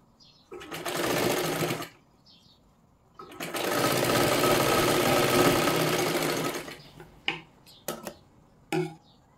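Sewing machine stitching a full cross strip of a boat-neck katori blouse: two sustained runs of fast mechanical whirring, the second longer, followed by a few short clicks and bursts of handling.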